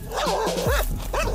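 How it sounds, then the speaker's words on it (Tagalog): A dog barks loudly in a quick run of close, yelping barks with a whimpering tone, set in a dramatized horror story with a steady low background hum. "Umahol ito ng malakas."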